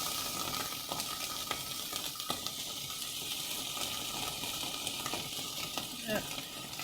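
Okra sizzles gently in a pot of lamb stew while being stirred, giving a soft continuous frying hiss broken by occasional scraping clicks.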